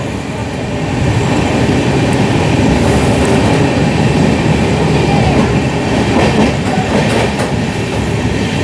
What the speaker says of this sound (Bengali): আর এখন কিন্তু ব্যারাকপুর স্টেশন পার করছে রাধিকাপুর এক্সপ্রেস মোটামুটিভাবে 40-45 স্পিডে।